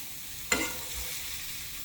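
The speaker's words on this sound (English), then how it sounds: "we are going to be spooning this into our chicken mixture" Chicken casserole mixture with vegetables spooned in for a chicken and broccoli divan, giving one soft wet plop and scrape, then quiet kitchen background.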